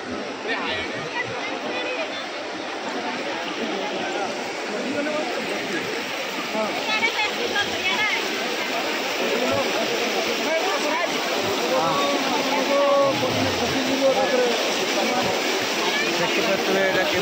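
Water rushes strongly down a hill stream at a village fair outdoors, a continuous dense roaring wash close by, with faint voices mingled in the background.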